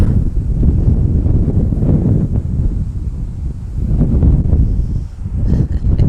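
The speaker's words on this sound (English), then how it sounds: "This wind is crazy." Strong gusting wind at an oak-tree fishery buffets the microphone in a loud, continuous low roar with rustling surges, close and constant with no talk.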